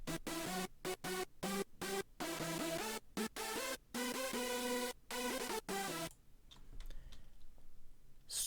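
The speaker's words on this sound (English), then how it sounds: "the dry sound of the lead without any mixing" Dry, unmixed synth lead with no reverb or delay plays a run of short, clipped notes in a steady staccato rhythm, alone and clear, then stops abruptly, leaving near silence.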